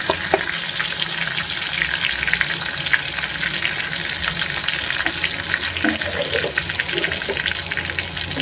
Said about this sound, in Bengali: ফোড়নটা একটু ফুটে যাক।